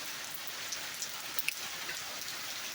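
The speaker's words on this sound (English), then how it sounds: "The rain is just so amazing." Rain falling outdoors in the morning, a soft, steady patter with scattered sharper drips and droplet hits, heard alone with no voices.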